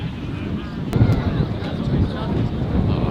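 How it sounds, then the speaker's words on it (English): Wind buffets the microphone at an outdoor club cricket match, a continuous loud low rumble and roar that fills the whole moment without a break. "I hate the wind, it is so annoying"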